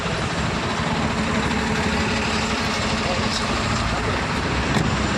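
A truck engine idles with a steady low rumble while the vehicle backs up on a road, the drone continuous and fairly loud throughout with faint roadway noise around it.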